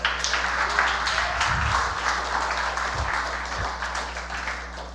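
A church congregation applauding, a steady broad wash of clapping held at an even level for several seconds, with a low constant hum and a couple of faint thumps underneath.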